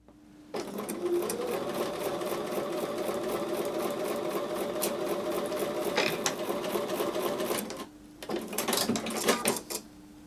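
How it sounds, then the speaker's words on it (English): A sewing machine stitches a quarter-inch seam on a quilt block in a fast, steady mechanical whir that starts up, runs continuously, pauses briefly, then runs again in a short burst. "I'm going to take those over to the sewing machine and sew with a 1/4 inch seam"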